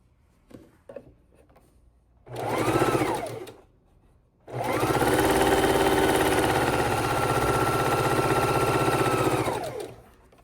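A sewing machine stitches quilt four-patch squares: a short run of about a second, a pause, then a long steady whirring run of several seconds, close and loud, ending abruptly.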